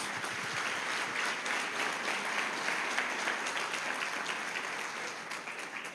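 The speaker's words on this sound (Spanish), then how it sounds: "¿Qué te parece si le das otro aplauso al Señor Jesús?" Sustained, dense applause from a large church congregation, steady and loud throughout with no speech over it.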